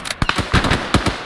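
A frag grenade in a video game goes off as a burst of sharp crackling pops in quick irregular succession, loud and close, with no voices over it.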